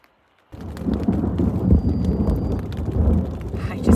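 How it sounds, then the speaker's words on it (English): Steady rain falls at a lakeside campsite in the Temagami backcountry, with low rumbles of thunder rolling underneath, all fairly close and continuous after a quiet start. "So it's just raining. It's not even raining really hard. And there's just a few rumbles of thunder here and there."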